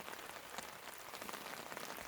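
Rain falling beside the Imgi stream in the upper Nakdong River area, a steady dense patter of drops on surfaces, soft and even, with no voices.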